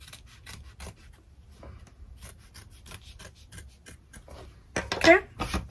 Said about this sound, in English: I kind of just hold the fabric up and then cut close to here and it gets pretty close.